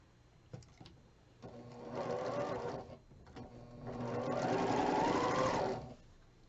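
A sewing machine stitches quilt pieces together, two sustained runs of steady whirring separated by a brief pause and a few light clicks, close and clear with no talking.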